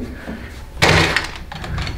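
Door slammed shut hard in a video game, one loud close thud that rings briefly, preceded by soft background noise and followed by a fainter second knock.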